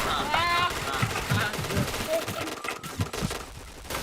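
Gunfire from the shooter game Point Blank crackles in quick bursts near and loud, mixed with game effects and a voice speaking over it.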